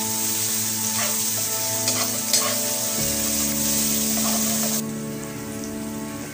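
Soaked pulao rice fries loudly in a pot with cumin powder. It sizzles steadily and closely, with scraping stir strokes, and the sizzle eases slightly near the end.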